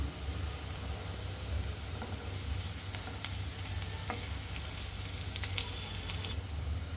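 Ginger garlic paste sizzles with onions in a pan, a dense continuous frying hiss with a low background hum and scattered utensil clicks.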